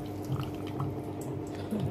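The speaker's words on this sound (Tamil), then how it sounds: "இப்போ வந்து இந்த பருப்பில் இருந்து தண்ணி வடிகட்டினால அந்த தண்ணியை வந்து இந்த கீரையோடவே சேர்த்துக்கலாம்." Water drained off cooked lentils trickles and drips steadily into a pot of drumstick greens in a home kitchen, a soft continuous pour with faint drops and no talking.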